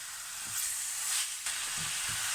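Spiced pork with a cinnamon and clove coating sizzles steadily in a pan, a close bright hiss with a few soft stirring bumps and no talking.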